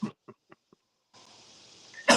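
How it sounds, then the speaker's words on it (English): A man coughs in three or four short, sharp bursts, pauses through a stretch of soft hiss, then lets out one loud, harsh cough close to the microphone. "This coughing break"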